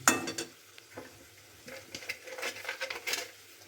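Potatoes being stir-fried with a cooked spice paste for a plantain kofta curry, a faint low sizzle broken by scraping and stirring strokes of a spoon against the pan.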